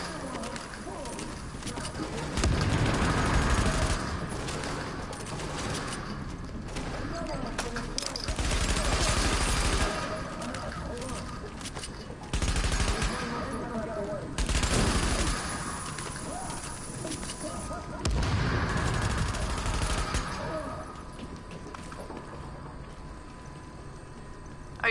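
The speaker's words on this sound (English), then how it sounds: "Why are they still shooting at me?" Enemy gunfire in the video game The Division: loud, broadband volleys of shots come in repeated bursts of a second or two, separated by quieter stretches.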